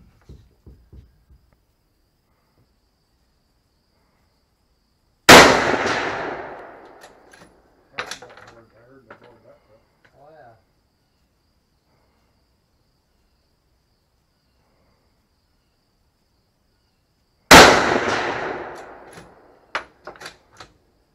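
Two sharp, loud 6.5 calibre rifle shots ring out about twelve seconds apart at an outdoor target range, each with a sudden crack and a decaying echo, with faint handling noises in between.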